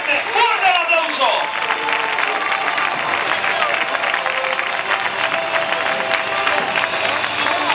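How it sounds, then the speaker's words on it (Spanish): Crowd applause and cheering at an outdoor recortes bullfighting contest in Peralejos de Abajo, Spain, loud and sustained throughout, with an announcer's voice rising over it near the start. "¡Fuerte el aplauso para este segundo grupo!"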